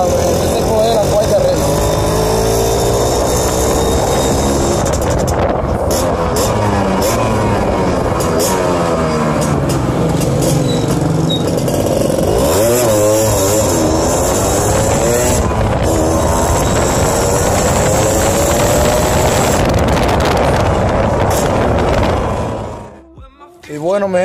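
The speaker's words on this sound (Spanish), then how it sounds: "Vamos a ver cómo arranca con los dos." A Suzuki AX100 motorcycle with a 4th racing sprocket and two riders aboard starts and runs, its engine note rising and falling loudly and steadily for over twenty seconds with wind buffeting, then cutting off at the end.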